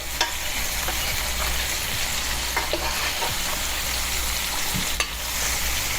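A ribeye steak sears in a pan with butter and rosemary, making a loud, constant close sizzle with a few sharp spatters and utensil clicks, and no talking.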